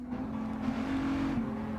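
A Renault Avantime in Gran Turismo 7 holds a steady, aggressive engine drone with a slight rise and dip in pitch, close and loud throughout, with no voices.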